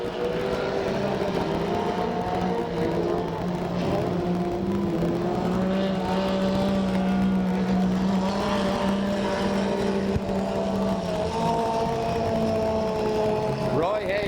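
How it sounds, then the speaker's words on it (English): Stock cars roar around a track during a 1996 points race at Porterville, California, a continuous loud engine drone with a rising and falling pitch as cars pass, under steady race commentary. "Running fourth, you see the red 16 car of Chris Patterson."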